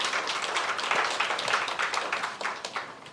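Audience applause at a World Parkinson's Disease Awareness Day program, a short burst of close, fairly dense clapping that tapers slightly toward the end.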